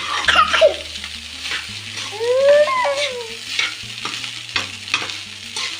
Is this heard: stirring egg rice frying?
yes